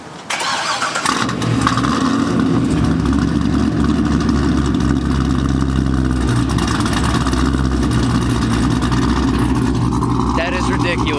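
A Corvette with a stage 3 cam fires up and runs with a loud, lumpy, choppy idle that holds steady and close, with a brief rev near the start and faint voices over it toward the end.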